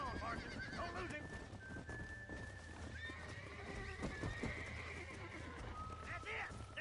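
Horses neigh and whinny in the Red Dead Redemption video game, repeated calls over clip-clopping hooves, with raised voices and game commotion throughout.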